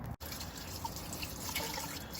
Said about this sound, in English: So there you can see the water's going down the drain, right?